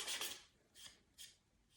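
Hand sanding of a surface: quiet, close, rasping scrubs, one longer stroke followed by two shorter ones with brief pauses between, and no talk.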